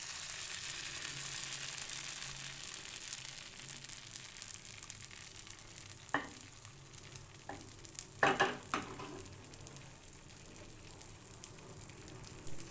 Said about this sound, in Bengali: 1 হাতা ব্যাটার দিয়ে দিলাম, দিয়ে সসপ্যানটা ধরে চারিদিকে করে দিলাম ব্যাটারটা